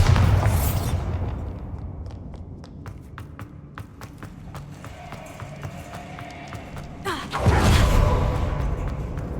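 A Bombarda blasting spell in Hogwarts Legacy lands with a booming burst at the start, followed by a quieter stretch of light taps and footsteps before a second loud crashing surge near the end.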